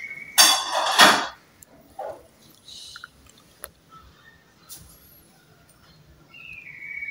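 Palm sugar being ground with a mortar and pestle while making a dish, heard as a loud burst of scraping, thudding strikes near the start, then sparse lighter knocks and taps fading into quieter stretches.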